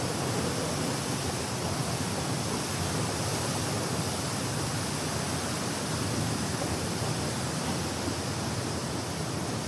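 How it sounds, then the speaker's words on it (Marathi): A mountain river on the Kedarnath trek rushes steadily, a loud, unbroken roar of flowing water that holds constant for the whole stretch with no voices over it. "नदीचा प्रवाह बघा."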